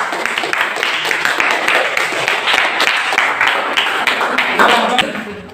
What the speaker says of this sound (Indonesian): Mari kita tepuk tangan dulu ya.